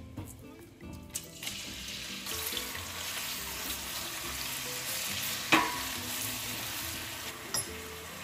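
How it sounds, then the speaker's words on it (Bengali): Chopped onion hits a pan for mutton curry and bursts into a loud, steady sizzle that continues close by, with a sharp clink of utensils partway through. "এখন আমি এতে দিয়ে দিচ্ছি পেঁয়াজ কুচি"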